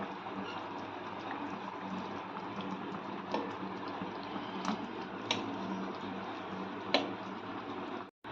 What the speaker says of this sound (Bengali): এবার আমরা ভেজে রাখা বা রোস্ট করা চিকেনগুলো একে একে গ্রেভির মধ্যে দিয়ে দিচ্ছি বা অ্যাড করে নিচ্ছি।